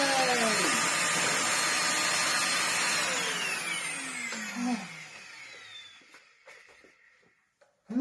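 A restored Sebo Dart upright vacuum cleaner runs loud and steady with a broad whooshing roar and shifting whine, then winds down over the last seconds into quieter clicks and handling noises.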